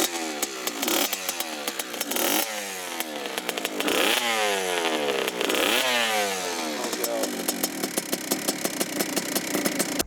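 Small RM65 mini supermoto motorcycle engine revving up and down in repeated sweeping rises and falls, loud and close, a buzzy two-stroke-like whine with sharp throttle blips, no voices.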